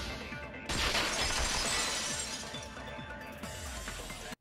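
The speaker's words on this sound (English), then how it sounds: "If it wasn't the window, then what broke to make that sound? A vase." A vase shattering in the video game Danganronpa 2, a loud sudden crash followed by a long spray of tinkling glass fragments that fades over a few seconds.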